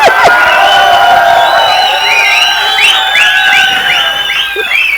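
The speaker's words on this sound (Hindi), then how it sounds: "ये तालियां इन लोग मारे" Crowd at a press conference with Ganesh Acharya, cheering, shouting and whooping loudly and continuously, with rising voices and claps mixed into the din.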